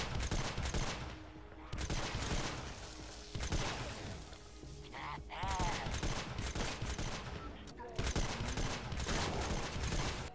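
Frostbite sniper rifle fire in Fortnite Save the World, several sharp shots spaced a few seconds apart amid game effects, with someone talking over it.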